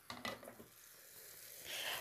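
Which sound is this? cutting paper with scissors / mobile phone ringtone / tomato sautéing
tomato sautéing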